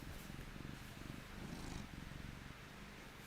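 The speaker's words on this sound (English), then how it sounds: "ASMR her purrs." A cat purrs softly and steadily up close, its low rumbling pulse continuing alone with no voices.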